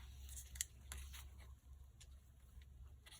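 Scissors snip through paper to trim it for a folio journal, a few sharp, quiet cuts spaced over a faint background hum with no talking.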